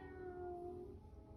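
People imitate a soft cat meow during a yoga class, a single gentle drawn-out mew, quiet and close, with no other talk.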